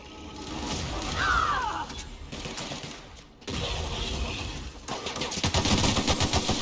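Gunfire from a powerful weapon in The Outer Worlds comes as a loud stretch of rapid shots and mechanical clatter, breaks off for a moment, then resumes as a fast rattling burst.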